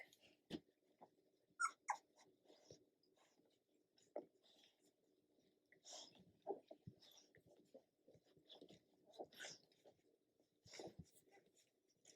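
Newborn two-week-old puppies scramble toward their mother to nurse, giving scattered soft squeaks, whimpers and snuffling suckling noises with faint shuffling, close and fairly quiet throughout.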